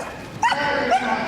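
A dog gives a few short yips and bow-wow barks while running an agility course at a championship event, the sounds moderately close over steady arena crowd murmur.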